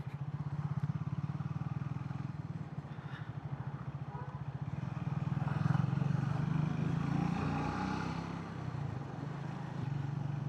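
A Triumph Speed T4 motorcycle rides along Pune streets during Ganpati visarjan, its engine a steady low rumble with a slight swell partway through, close and continuous, with road noise and no clear talk.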